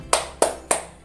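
Three crisp hand claps land in an even, quick rhythm during a children's boat-themed clapping game, close and clear with no talk over them.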